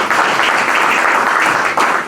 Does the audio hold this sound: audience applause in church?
yes